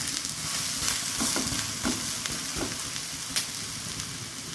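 An uttapam sizzles on a hot pan just after being flipped, a steady frying hiss broken by a few soft crackles and taps from the spatula, no talking.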